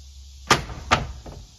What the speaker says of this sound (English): That's the screen door.